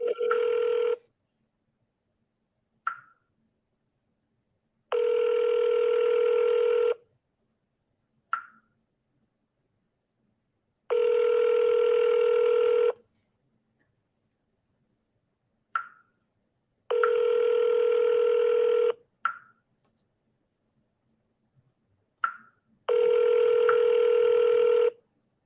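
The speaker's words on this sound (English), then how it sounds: "Just keeps ringing." Outgoing telephone call ringing unanswered: a steady two-second ring tone repeats four times at even intervals with silent gaps, each followed by a faint click, clear and alone with no talk.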